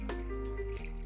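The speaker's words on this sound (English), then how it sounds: "we're just gonna add in some water into the pot." Water pours steadily into a pot of toasting spices for pho broth, a short continuous trickle and splash heard up close with no talking.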